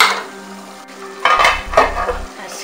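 A pot of egusi soup sizzles and simmers. A couple of clanking, scraping knocks follow as a metal lid is set down on the pot. The sounds are close and clear, with no talking.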